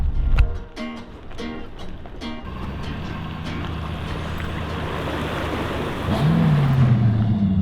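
Small outboard motors run on a lake on a breezy winter morning, a steady droning hum under wind noise, with a few sharp knocks at the start and the engine note rising near the end.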